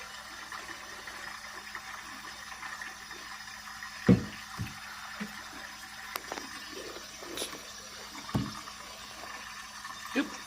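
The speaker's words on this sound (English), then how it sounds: "let's pour the liquid out first" Liquid is poured out of a solar wax melter in a few soft splashing trickles with small knocks, faint and intermittent against a quiet outdoor background.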